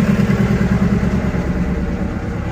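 Motorcycle and other vehicle engines rumble steadily nearby on a road, a continuous loud mid-pitched drone with clattering texture and no speech.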